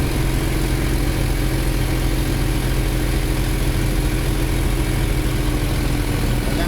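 The small gasoline pony motor drones loud and close without break as it turns over the diesel engine of a 1955 Cat 12 Grader, a dense, even mechanical roar with no voices.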